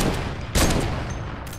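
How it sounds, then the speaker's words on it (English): Gunfire in a first-person shooter video game as a player shoots out a wall, heard as a dense volley of loud, close shots with a sharp burst in the middle. "I'll shoot the wall out."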